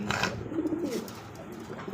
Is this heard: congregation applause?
no